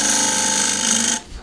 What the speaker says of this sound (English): So this is using the wing, left wing of the half inch spindle gouge.